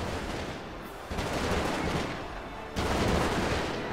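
A dense, continuous crackle of matchlock musket volleys rolls through a Sengoku-era battle in Nobunaga's Ambition Taishi. It is loud and steady, with heavier waves of fire swelling twice, and there is no talk.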